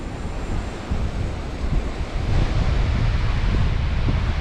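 Sea waves rolling in at Ganeshgule beach under a strong, gusty wind on a rainy-season day, a continuous loud roar with heavy wind buffeting the microphone throughout and no talking.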